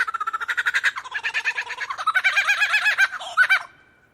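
A superb lyrebird mimics the rolling laugh of a kookaburra, giving a loud, rapid run of pulsed, cackling notes that rise into harsher chuckles and cut off abruptly.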